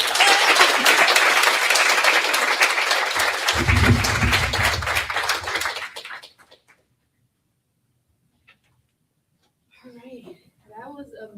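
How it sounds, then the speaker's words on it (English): Audience at a Dream Speeches graduation event in Kansas City bursts into loud, sustained applause and cheering for about six seconds, then falls silent before a voice begins speaking. "Give yourselves a round of applause."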